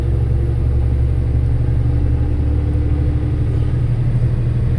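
A heavy truck engine labours up a steep rise in third gear after a hard pull in second, a loud, steady low rumble with no break and no talk.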